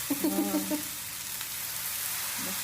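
Rava dosa batter sizzles on a hot pan while being spread for a hotel-style special dosa, a soft steady frying hiss with a brief scraping sound early on and no talk.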